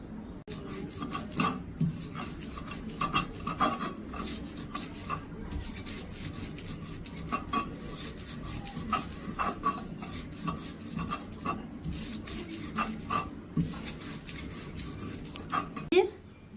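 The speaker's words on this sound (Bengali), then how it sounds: "আমার বাটা শেষ, সুন্দর করে মিহি করে বেটে নিয়েছি" Soaked lentils being ground into a fine paste for lentil fritters, heard as repeated rasping, rubbing strokes against a grinding stone in an uneven rhythm, close and fairly quiet throughout.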